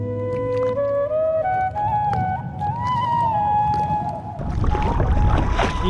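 A kayak paddled on the Padma river: steady wash of water and wind with a drawn-out, rising whistling tone, then louder, rougher splashing near the end.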